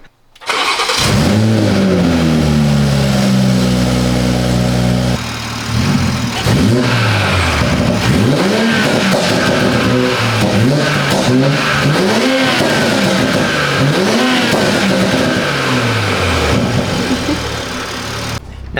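A BMW fitted with a new downpipe starts up and is revved repeatedly, its engine note swooping up and down in loud, close bursts between short idles.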